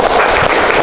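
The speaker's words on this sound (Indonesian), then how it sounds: "Tepuk tangan untuk Bapak Berlian." A brief burst of audience applause for a speaker at a gathering, loud and close, dense clapping that lasts under a second.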